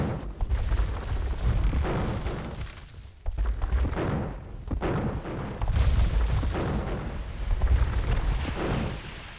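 Heavy booming cannon fire from warships battling the Turkish navy in Age of Empires II, the Battle of Lepanto, rolls almost without pause as loud overlapping blasts and rumbling thuds.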